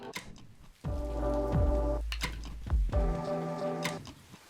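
Rain patters steadily outdoors during the Bali rainy season, with a sustained humming tone rising and falling over the downpour and a few sharp drips breaking through.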